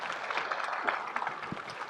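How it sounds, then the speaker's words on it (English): An audience at an agricultural panel discussion on soybean production claps for the panelists, a soft, brief burst of applause that sounds moderately distant. "maybe let's give them a round of applause for all the work they put into this"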